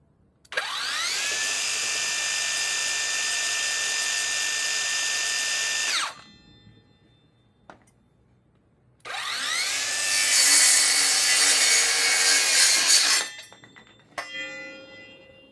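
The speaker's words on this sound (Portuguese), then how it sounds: "com a serra funcionando em vazio, e depois cortando um pedaço de madeira" A TECEPO 150mm compact circular saw whines at a loud, steady pitch while running idle, winds down, then starts again and cuts a piece of wood with a harsher, rougher roar before stopping, with no voices.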